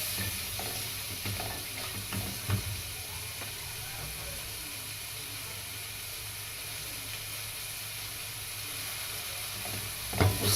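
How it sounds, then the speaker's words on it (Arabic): Peas and carrots sauté in a pan before rice goes in, giving a steady, close hiss and sizzle that lasts throughout, with a few faint clinks of stirring near the start and a louder clatter at the end. "شوحها شويه كده وبعد كده نحط الرز"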